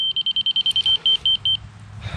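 A grade rod laser receiver at an excavator site gives a rapid run of sharp, high electronic beeps that slow slightly before stopping, followed by a brief rustle.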